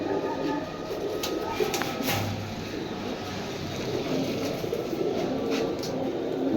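Pigeons coo at a pigeon sale, soft repeated calls rising from a constant busy hum of surrounding noise without clear talk.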